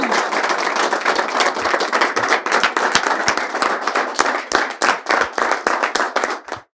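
An audience at a business event applauds to welcome an entrepreneur onto the stage, sustained loud clapping from many hands that thins into scattered claps and stops.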